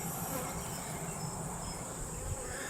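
Honey bees buzz steadily and densely throughout during a beehive inspection, a continuous close drone with no talking.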